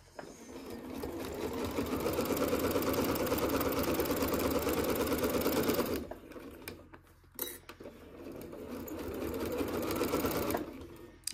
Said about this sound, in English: And I'm just gonna sew all the way around.